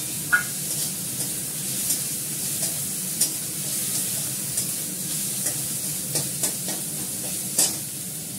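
Ginger paste fries in a pan with a continuous soft sizzle and occasional sharp spatula clicks and scrapes, close and moderately quiet, no voices.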